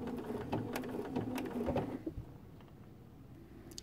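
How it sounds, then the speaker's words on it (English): A sewing machine fitted with a quarter inch foot runs in a short close burst of rapid stitching, then stops and leaves quiet room tone with a few faint clicks. "I'm going to put some stitches in the spot"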